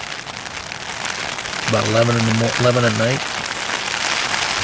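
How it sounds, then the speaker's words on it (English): Rain patters steadily on a tent at night in Yosemite, a continuous hiss of drops under a brief spoken remark from a man partway through. "It's raining."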